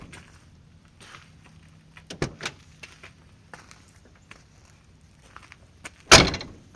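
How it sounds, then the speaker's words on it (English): A 1995 Ford F-250 door with an adjusted bottom hinge swings open with a couple of clunks and latch clicks, then shuts with one solid, loud slam near the end, with small knocks between. "the door opens and closes now like it's supposed to"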